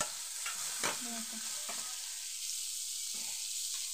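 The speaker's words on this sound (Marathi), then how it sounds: "आतां ह्यो कांदो असो बरो भाजून जाता" Onion frying in a pan, a soft steady sizzle and hiss with a few faint scrapes and clinks of stirring, fairly quiet throughout.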